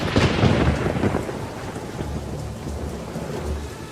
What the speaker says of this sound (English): And the rain was on the earth 40 days and 40 nights.